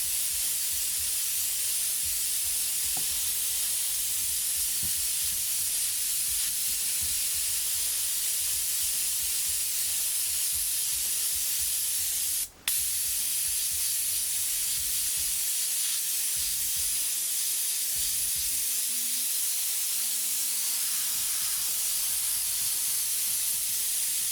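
An airbrush spraying white paint, heard as a steady bright hiss of air that runs nearly without a break, with one brief cutoff partway through and a faint low rumble underneath.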